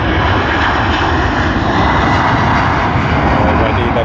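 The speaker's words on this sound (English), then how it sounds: "That is Qantas A330-300 to Tokyo Haneda QF59." A Qantas Airbus A330-300 jet roars steadily through its takeoff run at Sydney Airport, a loud, continuous broadband engine rumble and whine that holds unbroken for the whole stretch.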